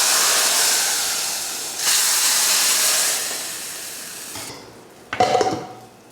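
Hot tempering of mustard seeds and curry leaves poured into sambar gives a loud, steady steamy hiss that swells, fades, and ends with a short clattering burst from the pot.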